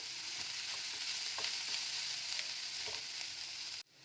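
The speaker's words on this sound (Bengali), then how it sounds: "এবার প্রত্যেকটা মশলাকে ভালো করে মিশিয়ে দেবো। একদম ড্রাই হবে এটা।" Spices sizzle steadily in a hot frying pan while being stirred for a dry chicken spring roll filling, with occasional scraping strokes; the pan noise cuts off abruptly near the end, and no one speaks.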